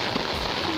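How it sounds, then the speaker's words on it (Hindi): Heavy rain pours down outdoors beside a flooded drain, a dense, steady hiss of falling water with no break across the short moment. "तो गाइस देखिए यहाँ पे अभी बहुत तगड़ी बारिश हो रही है।"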